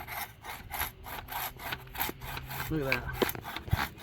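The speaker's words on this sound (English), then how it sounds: "it cut pretty fast for a limb that big, compared to all the other saws." An EZ KUT Kamikaze 20-foot extending pole saw cuts through a large tree limb outdoors, giving a steady back-and-forth rasp of strokes, close and loud, with a brief spoken remark over it.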